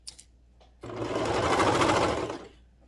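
A sewing machine stitches a seam with a half-inch allowance on a handmade gift set, running steadily and fairly close for about a second and a half after a few faint clicks, with no talking.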